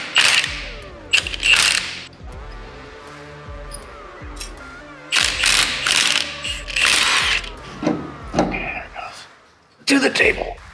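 A ratchet backs out bolts under a Jeep Wrangler in short bursts of quick, close clicking, separated by pauses, clinks and thuds, while a person speaks between the bursts.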